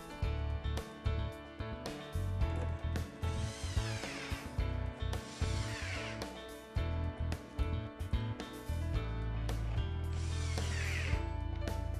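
Long screws are driven into pre-drilled holes in a wall cabinet, a power driver whirring in repeated short bursts with ratcheting clicks and rising pitch as each screw tightens, close and without speech.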